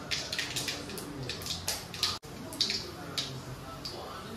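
Mustard seeds and urad dal spluttering in hot oil for egg rice, a steady run of sharp crackling pops with a brief break partway through.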